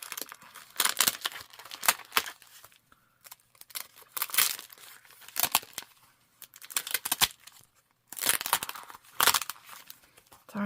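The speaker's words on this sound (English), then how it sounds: "Sorry for all the crinkly crinkles." Paper packaging around craft ephemera crinkles and rustles up close in irregular bursts separated by brief quiet gaps.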